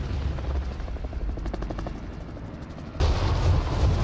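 Helicopter rotor chop in a first-person shooter video game, a steady loud thudding that swells louder near the end, with faint gunfire mixed in.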